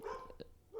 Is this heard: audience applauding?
no